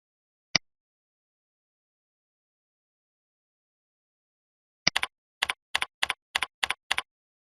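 Quick, crisp keystrokes on a computer keyboard type a search string in Microsoft Access. A single isolated click is followed after a long pause by a short burst of evenly spaced taps, close and clear, with no voices.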